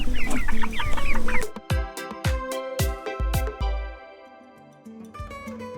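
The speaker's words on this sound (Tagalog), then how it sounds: "Magiging totoo na silang free-range chicken." Free-range chickens clucking and calling from a flock being moved out to pasture, a busy mix of close, overlapping bird sounds with sharp bursts, no voices.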